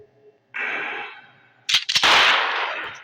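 Gunfire in the video game Breaking Point 2: a quiet stretch, then a loud, sharp cluster of three or four rapid shots, followed by a sustained broad noisy roar that slowly fades.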